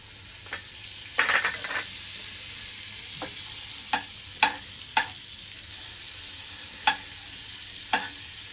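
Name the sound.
butter sizzling in a pan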